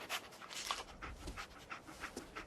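Dogmeat, the dog companion in the video game Fallout 4, pants in quick, rhythmic breaths that stay steady and fairly close throughout.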